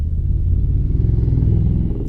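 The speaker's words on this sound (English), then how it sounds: "Why do people have loud motorbikes?" Deep, loud rumbling engine of a motorbike close by, a steady low roar with no voices.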